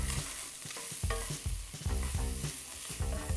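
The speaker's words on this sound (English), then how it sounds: "We already hear that sizzle." Spam sizzles in a hot pan set to medium-high, with a steady fizzing hiss broken by repeated soft thuds and scrapes of stirring roughly every half second, close and fairly loud with no voices.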